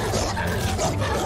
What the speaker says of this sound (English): I hate these dogs so much.